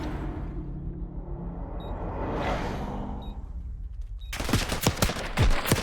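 Gunfire in a competitive online shooter video game match during a league final, with a quieter stretch of background noise giving way to a burst of sharp, loud shots near the end.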